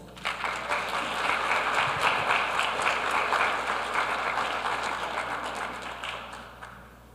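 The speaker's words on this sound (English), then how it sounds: "Please give a big round of applause" Applause at a public school board of education meeting for an honoree, a sustained round of many hands clapping that builds quickly, holds steady and tapers off near the end.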